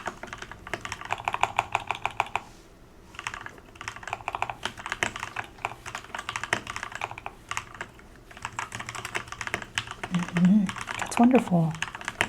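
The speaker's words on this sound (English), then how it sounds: "I'm just going to type a little bit while you're talking." Soft, close typing on a computer keyboard in a quiet indoor setting, with steady clicking keystrokes running through most of the passage and a few brief pauses, while a voice talks quietly over it.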